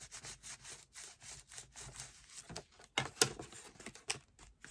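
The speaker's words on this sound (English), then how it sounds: "I'm going to put some more glue under the flap here. I'm going to burnish that down." A glued paper envelope flap on a handmade planner mini album is burnished down with steady, rhythmic rubbing strokes, close and fairly quiet, and a few sharper scrapes come near the end.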